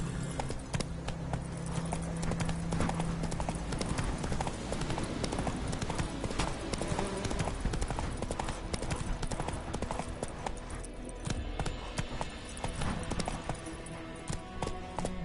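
Horse hooves gallop in The Witcher 3, a steady, loud clip-clop rhythm running continuously throughout with game ambience layered beneath.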